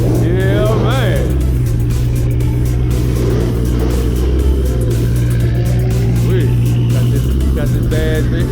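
Ford Mustang engine at a car show, a loud steady low rumble with surging revs, heavy and close throughout, while people talk over it.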